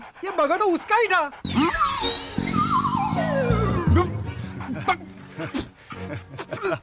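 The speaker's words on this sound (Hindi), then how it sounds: "कुत्ता क्यों भौंक रहा है?" A dog gives a few short yips and whimpers in a Hindi comedy film. The sounds are mixed with people talking and a long, sliding, falling sound effect.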